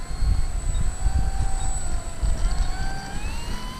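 RC warbird model airplane taking off under power, its engine droning steadily with a rising whine and a low rumble, moderately loud and continuous with no voices.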